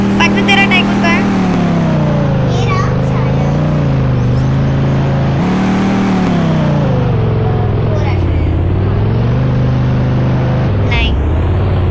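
In the Roblox game Vehicle Tycoon, a virtual car's engine note climbs and falls as it drives, a loud continuous tone that shifts with speed while a person talks over it.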